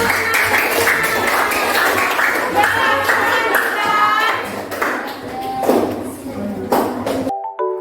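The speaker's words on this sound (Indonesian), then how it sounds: "Tepuk tangan untuk kelompok satu." A classroom full of students clapping together for a group, steady and lively applause with scattered voices mixed in, ending abruptly.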